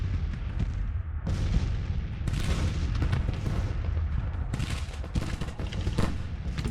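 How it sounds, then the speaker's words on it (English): Artillery bombardment in the Civil War strategy game Grand Tactician, a continuous rumble of cannon fire with repeated booms and crackling volleys, dense and steady with no voices. "the bombardment seems to be working"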